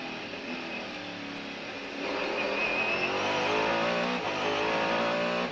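A Mercedes-Benz CLR race car braking at Mulsanne on the Le Mans circuit, a loud sustained engine roar that shifts pitch and swells as the car slows, with no voices.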